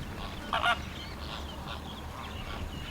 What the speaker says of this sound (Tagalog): Pink-legged flamingo.